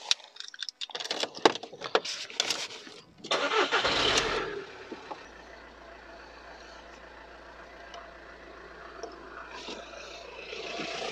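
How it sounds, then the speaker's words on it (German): A camper van engine cranks and catches with a loud burst, then settles into a steady low idle that continues alone, with scattered clicks and handling noises heard before the start. "ich hau mal den Motor an und dann gucken wir mal, ob das passt."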